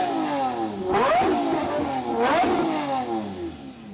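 A Lamborghini LP640 V12 engine revs hard twice in close succession, each blip rising sharply then falling away, loud and close with no talk.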